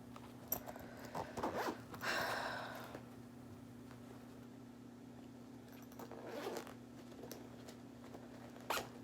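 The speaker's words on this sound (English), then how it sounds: "the zipper kind of broke on this one, but I need to open it" A broken, stuck zipper tugged open in short, halting pulls, with a longer rasping stretch and a few clicks, close and quiet over a low steady hum.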